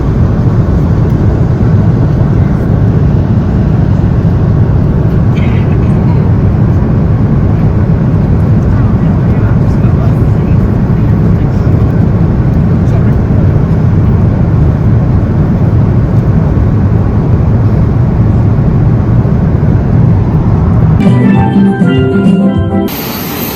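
Inside a small passenger plane flying to Antigua, a loud, constant engine and propeller drone fills the cabin, steady throughout with a few faint background sounds, and the drone cuts off abruptly near the end.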